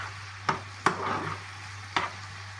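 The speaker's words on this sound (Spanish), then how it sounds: "Dejamos que se rehogue poco a poco." Vegetables sauté in a pan with a soft steady sizzle over a low hum, broken by three sharp clicks of a utensil tapping and stirring against the pan.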